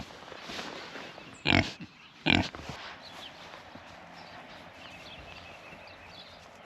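Pigs in a homestead barn let out two loud, close grunting oinks, followed by faint shuffling and rustling.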